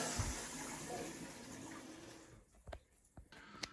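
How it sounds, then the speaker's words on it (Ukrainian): Rushing water pours steadily as a newly installed toilet is flushed, then fades into a few separate drips and splashes echoing in a quiet bathroom. "Спустив воду і потекла вода."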